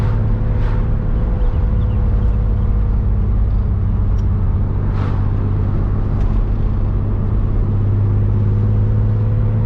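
A 35-year-old Porsche 911 with a five-speed manual gearbox, heard from inside while driving: a steady, loud engine drone and road rumble that continues throughout, with no speech.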